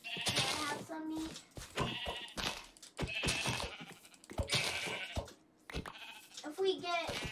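Minecraft sheep bleat repeatedly across the clip, short nasal calls scattered between and under steady conversation from nearby voices.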